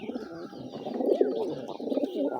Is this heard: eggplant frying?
no